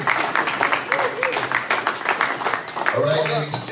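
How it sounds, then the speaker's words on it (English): Audience applause fills a hall of fame ceremony, a dense steady clatter of many hands clapping that runs through most of the stretch, with a voice speaking over it near the end. "if we could, another round of applause"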